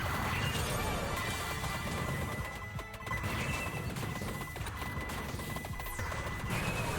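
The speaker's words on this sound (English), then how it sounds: "Sure, let's throw some more explosions in here, because why not, right?" A continuous barrage of overlapping crashing explosions from the video game Vampire Survivors, dense and steady with no break, mixed at a moderate level with no talking.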